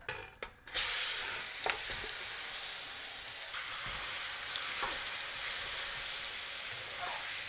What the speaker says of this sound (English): I'm going to add all the chicken and let it sizzle up